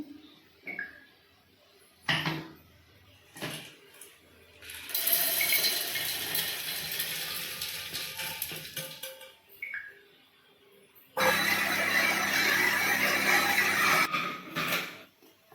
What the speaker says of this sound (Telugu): ఇప్పుడు ఇవి రెండు కలిపి పప్పులు పల్లీలు కలిపి మిక్సీ పట్టుకుందాం